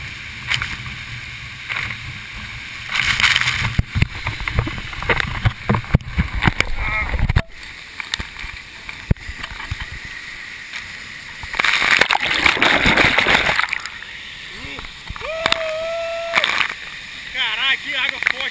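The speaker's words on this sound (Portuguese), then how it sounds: "que água forte aqui" Strong water rushing on a waterfall trail, a loud, broadband roar and splashing that surges and fades as the microphone moves, with people talking and calling out over it.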